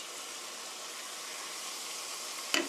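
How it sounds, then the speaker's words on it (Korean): Soy sauce stir-frying in a pan for Korean chicken with tomatoes makes a quiet, even sizzle, broken near the end by one short clatter. "간장이 볶아져야 맛있거든요"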